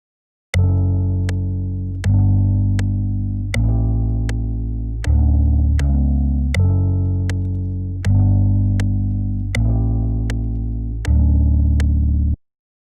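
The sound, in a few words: lofi beat sample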